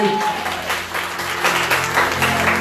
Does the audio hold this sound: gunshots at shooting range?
no